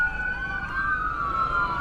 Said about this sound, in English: Oh, it's another ambulance.